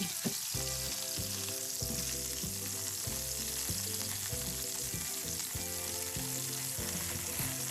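Soy sauce chicken skin-side down in a hot pan crisping up, a loud continuous sizzle with dense popping and a steady background hum throughout, no speech.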